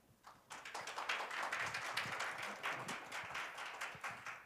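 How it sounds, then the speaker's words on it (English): A burst of applause from a small audience starts abruptly and continues steadily, fairly soft and somewhat distant. "please welcome them with a big round of applause"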